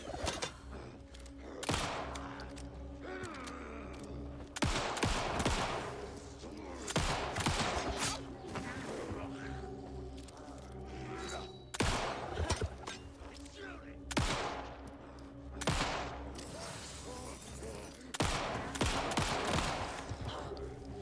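Repeated bursts of gunfire in the video game Alan Wake 2, loud volleys and single shots recurring every few seconds over a droning ambient background with faint talk.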